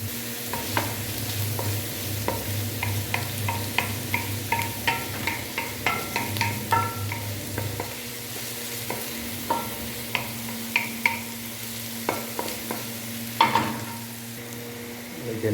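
Tofu sisig with chili fries in a pan while a utensil stirs it in repeated scraping strokes, over a steady sizzle and a low hum from the stove.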